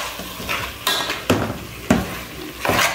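Cilantro being stirred as it fries in a pan: a steady sizzle, broken by four or five sharp scraping knocks of the utensil against the pan, close and loud, with no talking.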